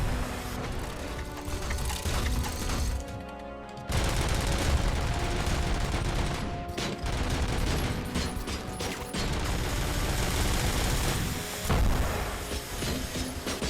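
Rockets exploding amid heavy mechanical gunfire and clatter in the game RoboCop: Rogue City, a dense, loud barrage of bursts and booms that runs almost continuously with a brief lull partway through.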